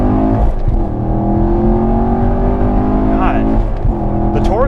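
A Chevrolet Camaro 1SS 1LE pulls hard under steady acceleration, its engine note loud and sustained with rising harmonic tones, while people talk over it inside the car.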